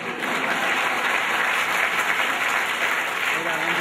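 An audience claps steadily through a live Hindi poetry recitation, a dense, loud wash of applause lasting the whole moment with no voices over it.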